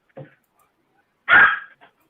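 A dog gives a small yip, then after a pause lets out one loud, close bark with a faint trailing yelp.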